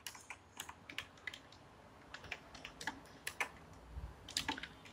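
Fingers tap out a command on a computer keyboard at a Windows command prompt, a quiet, fairly steady run of light key clicks with short pauses and one heavier thump near the end.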